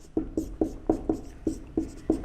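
Chalk or marker writes on a board during a geography lesson: a string of short, evenly paced taps and strokes, about eight in two seconds, close and moderately quiet with no voice.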